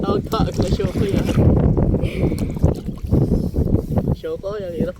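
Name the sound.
paddling a boat in strong wind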